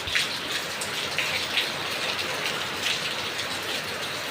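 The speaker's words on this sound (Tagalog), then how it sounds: "Sobrang lamig ngayon. Lakas ang ulan." Heavy rain during a typhoon pouring steadily onto surfaces nearby, a continuous dense hiss with scattered louder splashes, no voices.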